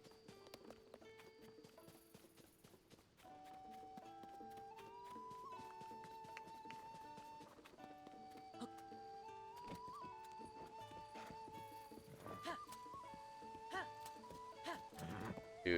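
A horse trots and gallops in The Legend of Zelda: Tears of the Kingdom, its steady clip-clop hoofbeats running throughout beneath game music, with no talk.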